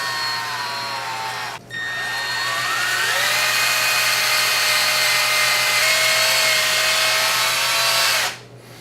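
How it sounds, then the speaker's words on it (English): An electric drill polishes a Nissan instrument cluster lens, giving a steady close-up whine that dips briefly near the start, then runs on continuously and loudly until it stops near the end. "either you can reverse your drill or you can simply turn the lens around and begin polishing that way"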